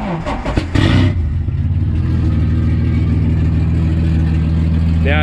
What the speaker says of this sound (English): how could I forget to start it up for you and give you an exhaust note?